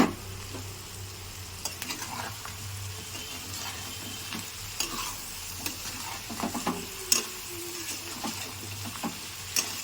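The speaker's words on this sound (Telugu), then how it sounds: "ఫ్రై చేసిన చికెన్ని వేసేసుకుందాం" Fried chicken frying and stirred with onions in a pan, a continuous close sizzle with repeated scraping stirs and occasional sharp clatters of the utensil against the pan.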